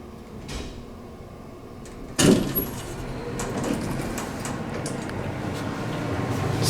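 A 1970s Dover hydraulic elevator in a Raleigh office building arrives with a sudden loud clunk about two seconds in, then its doors slide open, followed by a rising motor and fan hum, without speech.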